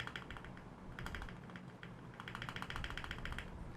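Fingers type on a Keychron K2V2 mechanical keyboard in quick, uneven bursts of crisp clacks, close and distinct, with a few heavier strokes among the rapid keypresses.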